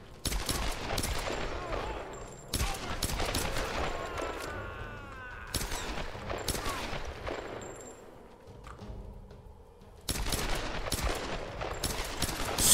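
Repeated bursts of gunfire in the Tomb Raider video game, loud volleys and rapid fusillades aimed at enemies, separated by brief lulls with a short quieter stretch before the shooting resumes.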